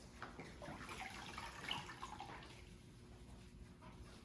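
Water rinsing over a patient during a partial bed bath, a faint, continuous soft splashing and trickling with no voices.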